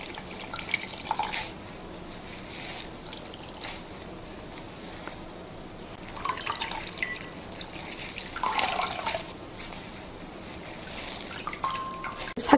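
Boiled, rinsed and water-soaked greens are wrung out firmly by hand over a sink. Water trickles and drips with soft squishing in a steady wash, rising in brief louder bursts, with no talking.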